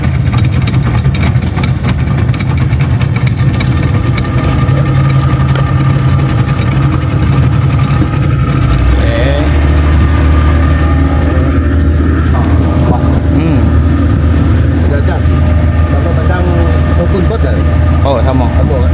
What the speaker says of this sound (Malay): Okay guys, kita nak test bot. Nak try jalan dulu.